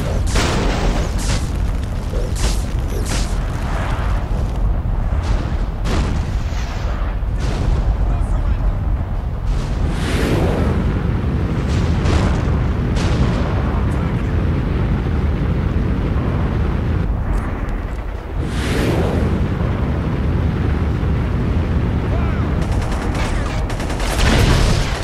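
Missiles blown apart in an Iron Man video game: a dense run of booming, artillery-like explosions and crackling blasts, loud and close, continuing almost without pause throughout, with speech mixed in at times.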